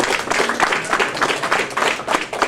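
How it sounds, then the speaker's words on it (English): Close, lively applause at a boxing post-fight press conference, with bursts of clapping rising and falling in uneven waves, loud and near, over a couple of seconds. "I want everybody to give him a round of applause."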